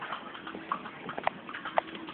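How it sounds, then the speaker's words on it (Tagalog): Horse hooves clip-clop at a steady walking pace as a horse pulls a kalesa, a horse-drawn carriage in Vigan, with a few sharp distinct strikes standing out over a low street background. "Yun yung kabayo namin."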